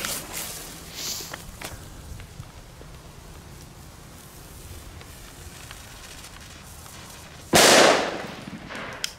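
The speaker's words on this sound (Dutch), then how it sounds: "Dit zijn geen slechte knallers" Belgian firecrackers go off outdoors: faint scattered pops early on, then one loud, sharp bang near the end that decays over about a second.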